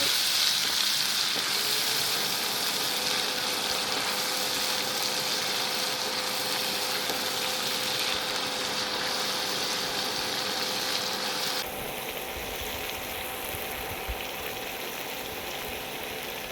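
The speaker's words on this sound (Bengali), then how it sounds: "জিরা বাটা আদা রসুনের পেস্ট সব কিছু দিয়ে এই ভালো করে আমি মশলাটা কষিয়ে নেব" Cumin, ginger and garlic spice paste frying in a pan for a pabda fish dish, a loud continuous sizzle held steady throughout with a constant faint hum underneath and no talking.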